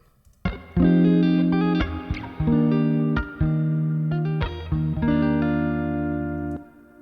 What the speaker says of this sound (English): Okay, and then a little reverb.